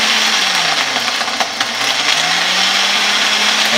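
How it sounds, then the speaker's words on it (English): A small blender crushing ice at high speed, a loud continuous whir with shifting pitch and rattling ice, briefly dipping around the middle before surging back to full power. "it just says blend at high speed for 5 seconds"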